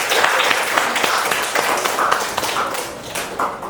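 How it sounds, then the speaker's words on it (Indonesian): Classroom applause greets the first student group, a steady patter of many hands clapping close by with no pause for the full stretch. "Beri tepuk tangan untuk kelompok pertama"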